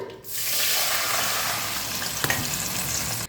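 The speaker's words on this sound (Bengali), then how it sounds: "এবার এর মধ্যে হালকা সেদ্ধ করা সবজিগুলো ঢেলে দিলাম" Lightly parboiled vegetables are tipped into a frying tempering of spices, setting off a loud, steady hiss of sizzling that holds for about three seconds, with a brief scrape partway through, and cuts off sharply.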